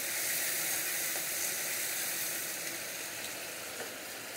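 Two medium tomatoes added to a hot frying pan for a Bengali vegetarian curry give a steady, close, broadband sizzle that holds evenly throughout, with faint clinks and no talking.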